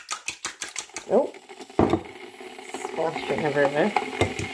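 Christmas dinner food frying in a home kitchen pan, a loud crackling sizzle with sharp spattering pops and clattering stirring, heard close up alongside a speaking voice.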